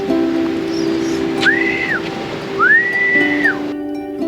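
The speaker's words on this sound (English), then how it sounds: "I had to bust out a big whistle." Two loud, drawn-out human whistles, each a rising then falling tone, over a steady background hum with faint traffic or surf noise.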